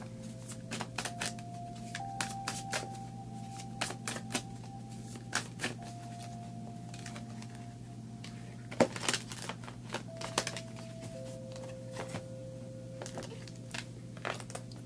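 Tarot cards being shuffled and one drawn, soft crisp riffles and taps against a steady low hum, faint and close with scattered sharper flicks.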